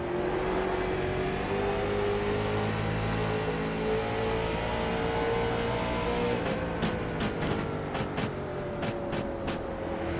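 Race car engine heard onboard during a close circuit race, a continuous loud droning whine that rises steadily in pitch, joined near the end by a string of brief sharp clicks.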